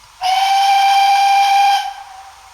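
A model railway steam locomotive sound unit gives one sustained horn blast of about one and a half seconds, loud and close. A soft steam hiss sits beneath it and lingers after the blast ends.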